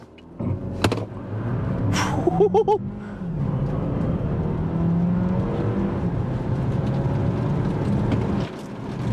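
A 2024 Dodge Hornet R/T plug-in hybrid launches from brake torque in power shot mode, its engine note rising steadily and loudly from inside the cabin after a few clicks, then holding a strained whirring drone.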